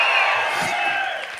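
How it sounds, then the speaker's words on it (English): A large live audience at a comedy show in Edinburgh, Scotland, cheers and whoops in a loud, sustained wash of crowd noise that fades slightly toward the end. "Wow, man, big fucking crowd."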